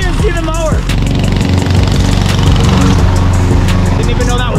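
A lawn mower drones loud and steady while cutting a yard, its engine hum continuous under people talking.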